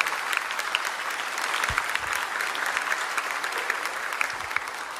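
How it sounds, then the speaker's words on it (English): Loud, sustained applause from a church audience fills the space, a dense wash of clapping holding steady throughout with scattered louder claps on top. "I want to hear really, really loud Bridge applause for Rob and Sharon."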